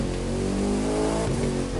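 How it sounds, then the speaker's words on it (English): Bugatti Divo hypercar in The Crew 2 racing game during free roam, a loud steady engine drone with layered harmonics, pitch dipping and shifting around a gear change midway, continuous and close. "just doing like a little bit of free run with the Bugatti Divo."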